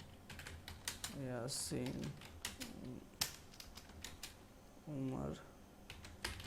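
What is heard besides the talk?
typing on a computer keyboard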